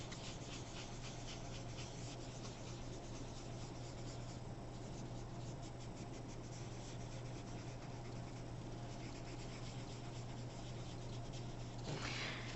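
Graphite pencil smudged back and forth across paper for shading, a soft, continuous scratchy rubbing that holds at a quiet, even level throughout.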